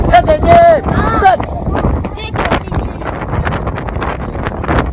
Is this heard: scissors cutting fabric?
no